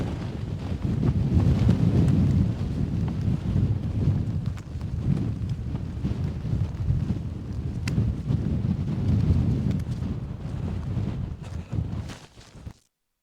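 Strong wind buffets the microphone on an open Scottish mountainside near Cruach Àrdrain and Beinn Tulaichean. It roars and gusts loudly and continuously before cutting off abruptly at the end, with no voices.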